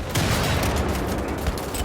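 Gunfire in the video game Wolfenstein: The Old Blood with a Kampfpistole in play, a loud, dense, continuous barrage of shots and impacts filling a short burst of combat.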